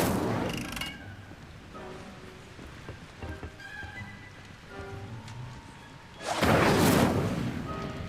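An Incendio fire spell is cast in Hogwarts Legacy. A loud whooshing burst of flame opens the clip, rumbling crackles follow, and a second strong fiery blast flares up near the end. Game music plays softly underneath.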